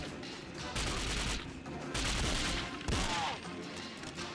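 Bursts of gunfire from the GameCube shooter 007: Nightfire, with a powerful revolver in play, come as dense overlapping volleys in two or three loud stretches with short lulls between.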